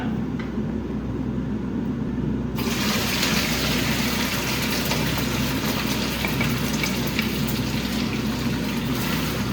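Crushed, chopped tofu drops into hot oil in a home kitchen and sets off a steady, dense sizzle and crackle that keeps going evenly without a break.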